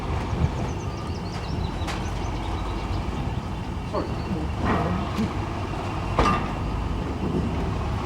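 A heritage steam train at Goathland station on the North Yorkshire moors sets off, a steady rumbling rail drone with occasional sharp hissing bursts and whistle-like tones, fairly distant, with faint voices in the background.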